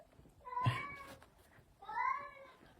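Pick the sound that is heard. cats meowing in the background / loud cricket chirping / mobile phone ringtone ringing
cats meowing in the background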